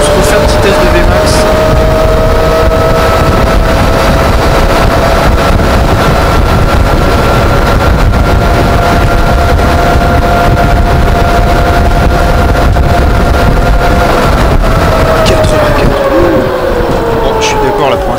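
Electric Motion Etrek 125 electric motorcycle on a top-speed run, a steady high motor whine holding pitch for the full stretch, loud and close under constant wind buffeting, with a slight pitch dip near the end.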